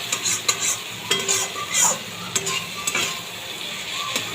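Potatoes stir-fried in spice masala in a pan, sizzling softly while a spoon scrapes and turns them in uneven strokes, close by and with no talking.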